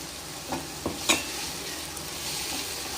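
Ground garlic and ginger paste sautés in a pan for chicken liver gravy, a soft continuous sizzle with a few brief stirring knocks near the start.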